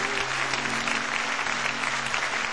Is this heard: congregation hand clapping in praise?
yes